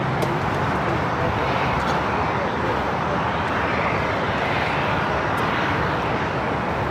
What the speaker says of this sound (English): Asiana A380 Super.